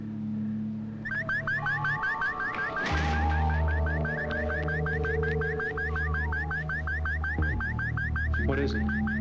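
An outpost perimeter alarm system goes off, a loud, steady electronic warble repeating rapidly over a constant sustained tone and low hum, with a brief burst of noise partway through.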